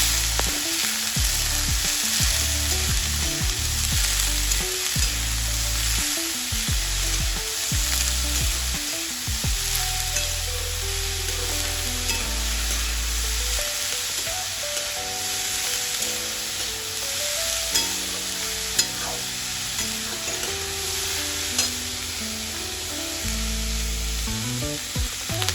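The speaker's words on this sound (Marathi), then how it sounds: "नंतर चिरलेली सर्व पत्ताकोबी यात टाकून चांगले परतवून घेणार आहे" Chopped cabbage with turmeric stir-fried in a pan, a steady close sizzle and frying hiss running throughout with occasional scraping stirs, no voices.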